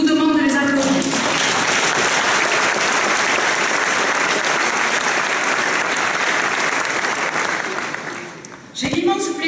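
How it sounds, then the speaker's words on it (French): Large audience at an opening plenary session applauds organisers and volunteers, sustained loud clapping for about eight seconds that tapers off, with a voice briefly heard at the start and again as it ends. "Je vous demande de les applaudir."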